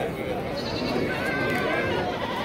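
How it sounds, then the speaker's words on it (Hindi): Goats bleat amid the crowded bustle of a goat market in Ajmer, with people talking throughout and animal calls mixed into the steady background noise. "आपको दिखा दे बड़ा बकरा।"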